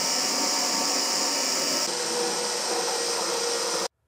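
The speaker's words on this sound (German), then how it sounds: "werde ich das Ganze hier unten noch mit 2 solchen mitgelieferten Schrauben sichern" A power drill or screwdriver drives supplied screws to secure an IKEA Lack wall shelf, whirring loudly and steadily for nearly four seconds before stopping abruptly.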